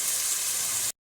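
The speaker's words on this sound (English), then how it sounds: "So we're just going to go ahead and soften these onions up." Onions softening in a hot pan give off a steady, close, bright sizzle, an even hissing crackle that runs without a break, then cuts off abruptly.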